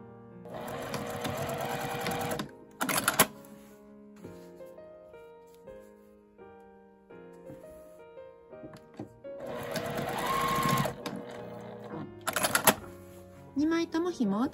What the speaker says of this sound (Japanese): 布に紐を仮縫いします。